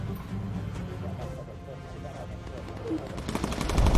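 A ball gunner fires a machine gun from a bomber in the video game Bomber Crew, with rapid muffled bursts under game background noise that grow louder and denser toward the end.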